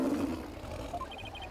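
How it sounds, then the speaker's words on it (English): The warbad, a bird in the Ace Attorney game, lets out a short, deep roar-like cry that sounds more like a wild beast than a bird, heard alone in a brief burst. "It's the cry of a local bird known as a warbad."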